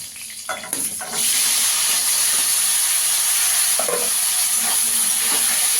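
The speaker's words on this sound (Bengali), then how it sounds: "এই তেলে আলুটাও ভেজে নেব।" Potatoes go into hot oil, bursting into a loud, steady sizzle after a brief clatter. Occasional stirring sounds rise over the constant hiss.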